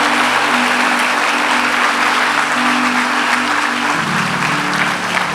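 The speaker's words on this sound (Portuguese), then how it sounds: "Aplauda Jesus" A church congregation at an Easter service in Lisbon breaks into sustained, loud applause that fills the room evenly, with a low sustained tone from music underneath and no speech.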